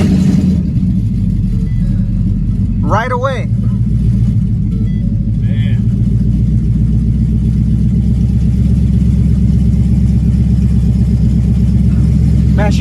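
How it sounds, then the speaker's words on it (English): A turbocharged S550 Mustang GT running on E85 fires up straight away after a fresh tune and settles into a loud, steady, rumbling idle close by, with brief talk over it. "Man, she started up right up."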